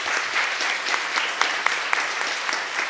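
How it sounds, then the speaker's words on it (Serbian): An audience applauds at the closing and awards ceremony of the BOSIFEST 2022 festival, a steady, dense burst of clapping with a few sharper claps standing out, heard alone. "Ja bih zamolio za jedan aplauz za sve ljude koji su se prijavili i koji su učestvovali u"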